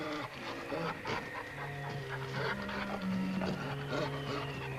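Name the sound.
dog panting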